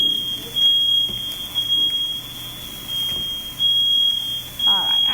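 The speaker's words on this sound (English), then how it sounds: "but I still managed to set the alarm on." A kitchen smoke alarm gives a loud, high-pitched, steady beep in repeated bursts while food cooks on the stove. It continues through most of the stretch, with quieter pauses between beeps.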